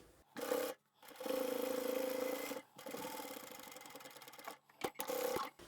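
A sewing machine top-stitches a zip on a bag in several short runs of a second or so each, separated by brief pauses, close and fairly quiet.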